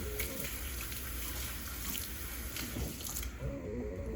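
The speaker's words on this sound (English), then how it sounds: "I gotta wash my hands quick." Tap water runs steadily into a kitchen sink during handwashing, a continuous close splashing wash that cuts off sharply near the end.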